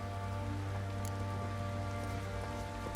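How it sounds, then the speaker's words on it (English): Light drizzling rain in the Witcher 3 video game gives a steady, soft patter of drops over a constant low ambient hum, with no voices. "Oh, it's drizzling."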